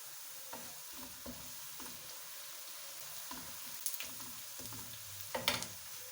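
Cumin seeds go into browned onions in a pan and fry with a quiet, steady sizzle, with faint stirring scrapes and a few small crackles scattered throughout.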